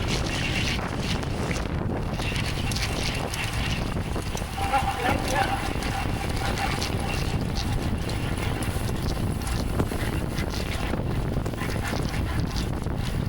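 During an amateur club road bike race, wind buffets the microphone in a constant rough rumble that lasts the whole stretch, with faint road and riding noise beneath.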